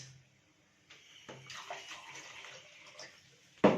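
Water poured from a vessel into a bowl of Upper Egyptian mesabbeka batter, a soft gurgling splash lasting a few seconds with a louder knock at the end; no speech.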